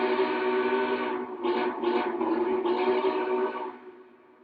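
Whistle of a Big Boy 4014 steam locomotive model train, a sustained, slightly wavering blast with a few pulsing swells before it fades out, fairly close and heard alone.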